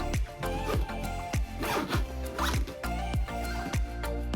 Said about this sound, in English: there is another zip that goes around and compresses them even more